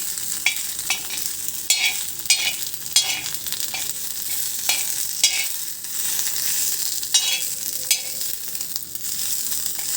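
Curry leaves and coriander seeds fry in hot oil with a steady crackling sizzle, while a spoon scrapes and stirs through them in repeated sharp strokes every second or so, close and fairly loud with no talking.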